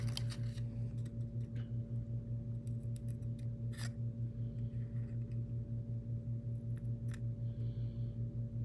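Several quick snips of curved and straight scissors cutting notches, scattered irregularly over a steady low electrical hum, no voices, while building a mini sprint car kit.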